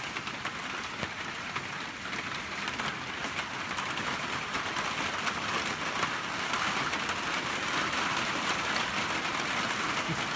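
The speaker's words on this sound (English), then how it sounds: "It's raining pretty good." Steady rain falls throughout a Southern California storm, a dense continuous hiss of drops on outdoor surfaces, loud and even from start to end with no voices.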